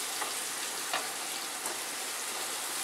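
A masala of fried onion, tomato, crushed garlic and ginger sizzles in a pan with a steady, close, rain-like crackle and a few faint stirring taps. No talking.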